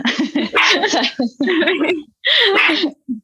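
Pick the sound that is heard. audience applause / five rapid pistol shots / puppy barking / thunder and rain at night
puppy barking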